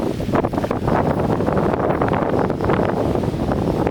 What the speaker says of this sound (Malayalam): നല്ല കാറ്റ് വീശുന്നു നിങ്ങൾക്ക് ക്യാമറയിൽ അതിൻ്റെ എഫക്റ്റ് കിട്ടുന്നുണ്ടാവും കേട്ടോ അത്രയും കാറ്റാണ്